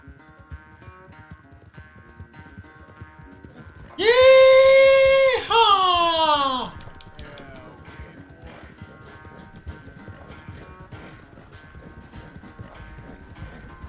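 A horse gallops in the video game Red Dead Redemption 2, its hooves clip-clopping in a steady rhythm under a loud, drawn-out whinny that rises and then falls away midway.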